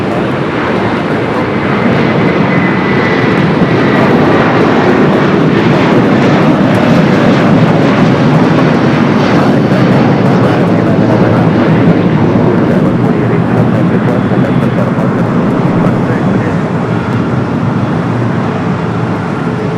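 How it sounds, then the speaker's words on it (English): An Airbus A350-900 arriving from Hong Kong at Los Angeles International Airport gives a loud, continuous jet roar that holds steady for the full stretch, broadband and sustained as it passes close by. "A350-900, coming up from Hong Kong,"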